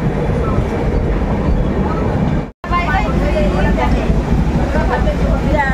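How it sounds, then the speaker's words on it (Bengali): Dhauli Express pulling out of Puri railway station, its steady rumble and rattle of wagons continuous and close throughout, broken by one brief dropout, with speech over the train noise. "পুরী থেকে আমাদের ট্রেন ছেড়ে দিল"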